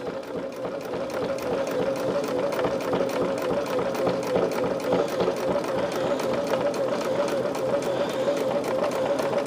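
A home sewing machine labors while stitching binding onto a quilt, giving off a steady, rapid mechanical chatter with a rhythmic knocking pulse throughout, loud and close, with no pauses.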